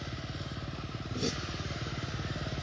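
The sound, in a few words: motocross motorcycle engine at track performance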